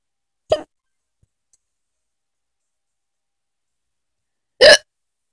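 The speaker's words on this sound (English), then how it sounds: "These are hiccups, by the way." Two sharp, isolated hiccups, loud and close, spaced about four seconds apart with near silence between them.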